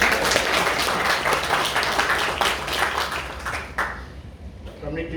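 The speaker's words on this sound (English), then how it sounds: "Give her a round of applause, please." A crowd applauds in a dense patter of many hands, strongest at first and tapering off, with voices talking underneath toward the end.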